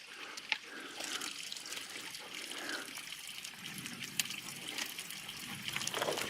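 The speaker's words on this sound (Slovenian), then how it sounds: "In tukaj je voda teče." Water trickling and flowing in a small stream on an outing near a snow cave, a faint continuous babble with occasional light splashes and clicks, no voices.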